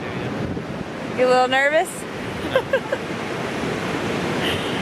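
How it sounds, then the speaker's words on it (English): Ocean waves break on a windy beach, a continuous loud roar of surf mixed with wind buffeting the microphone, while someone speaks briefly and other voices murmur. "The waves are pouring in right now."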